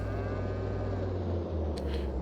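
A cow moos in Farming Simulator 22 at a farm, one long low drawn-out call held over steady machinery-like background noise.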